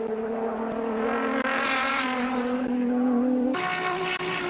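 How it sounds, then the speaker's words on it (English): A Schnitzer BMW 635 race car screams past at speed during qualifying at a 1985 touring car race, its engine note holding high and steady, then shifting to a new pitch, heard from a distance. "it's Roberto Ravaglia from Italy in the Bob Jane T-Mart Schnitzer BMW 635."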